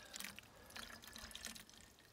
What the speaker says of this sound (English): Little spring, it literally comes out of the ground right there.